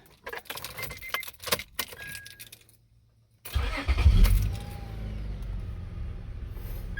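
Keys jangle close by in several short bursts, then after a brief silence an Acura TL's engine cranks and catches, settling into a steady idle rumble.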